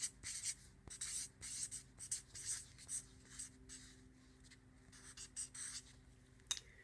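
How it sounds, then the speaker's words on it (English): A pen or pencil writes a name by hand on paper, with quiet, close scratchy strokes in short bursts and brief pauses. "I will write my name"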